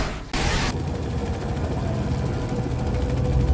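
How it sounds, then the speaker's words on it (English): A helicopter hovers in the Manhunt 2 video game, its steady, loud rotor and engine drone filling the scene continuously after a brief sharp burst at the start. "The chopper will do a circle sweep of the shadows."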